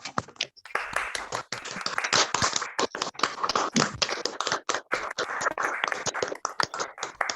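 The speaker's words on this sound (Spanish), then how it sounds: "abrir los micrófonos y brindar un aplauso acá a los colegas y las colegas que participaron" Online participants in a teacher-education talk clapping for colleagues over open microphones, giving dense, uneven bursts of close, slightly clipped hand claps and taps from several mics that overlap and pulse irregularly throughout.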